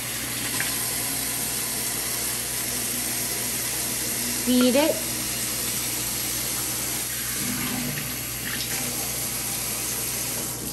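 Tap water runs steadily into a bowl while a sourdough starter is fed, a constant hiss and rush under brief spoken words.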